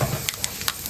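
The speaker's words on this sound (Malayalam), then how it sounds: "അപ്പൊ വെളിച്ചെണ്ണ ഒഴിച്ച് കടുകിട്ടുണ്ട്." Mustard seeds sizzle and crackle in hot coconut oil in a pan, a close steady fry with a few sharp pops from bursting seeds.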